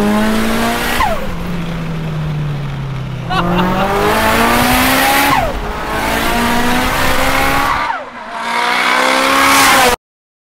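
A 2001 Mitsubishi Evo 7 fitted with a big turbo accelerating hard through the gears, loud and close, its engine note climbing in repeated sweeps broken by brief pauses at each shift, with a sharp break near the end.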